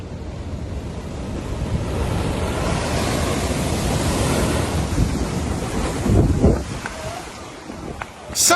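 Heavy sea waves crash and churn in a continuous loud roar during a nighttime flood in Scotland, with wind buffeting the microphone and a surge swelling louder near the end.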